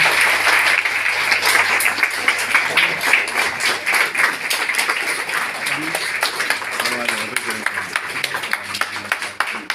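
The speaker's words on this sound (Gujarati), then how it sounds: "તાળીઓ ચાલુ રહેવી જોઈએ" Audience applause welcoming a swami at a product seminar in Diu, steady dense clapping throughout with voices mixed in underneath.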